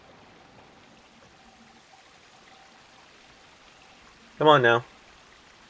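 A waterfall in the Chao Garden of Sonic Adventure on the Dreamcast gives a soft, continuous rushing hiss in the background, with someone speaking briefly near the end.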